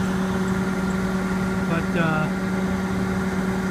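Steady idling diesel of a 1981 John Deere 6620 combine harvester with about 2,400 engine hours, a constant low hum with a brief spoken word over it.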